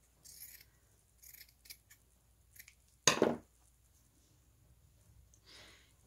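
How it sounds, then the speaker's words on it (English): Scissors cut through shabby fabric for a pumpkin craft, giving a few soft snips and then one louder, sharper crunching cut near the middle, close and otherwise quiet. "I'm going to cut some of this. Let's cut this."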